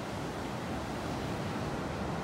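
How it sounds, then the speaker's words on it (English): Surf breaking on a Gulf of Mexico beach in North Naples, Florida, heard as a steady, broad roaring wash that sounds close and continuous, with some wind rumble and no voices. "those waves are crashing again this morning"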